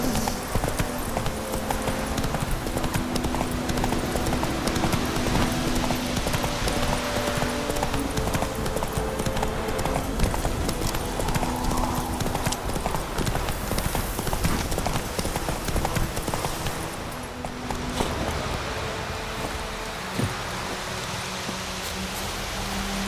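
Roach, a horse in The Witcher 3, gallops in a continuous rhythmic clip-clop of hooves that runs loud for most of the stretch and softens near the end.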